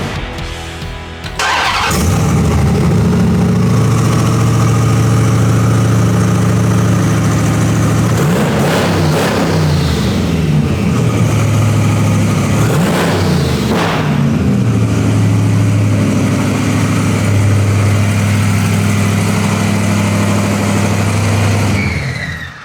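Twin turbo supercharged RAM pickup engine cranking and firing, then a loud, deep idle broken by two sharp revs that flare and settle back to a steady rumble.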